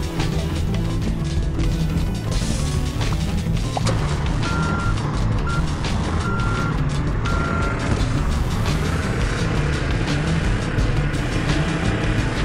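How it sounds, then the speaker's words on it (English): A truck in the video game Sneaky Sasquatch reverses with a string of evenly spaced electronic backup beeps over a steady low engine rumble and busy game background noise. "Bring a truck to the fence."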